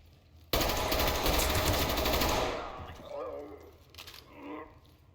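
A gun fires a rapid, close, loud automatic burst in the video game Ready or Not, lasting about two seconds before fading into quieter room sounds and faint voices.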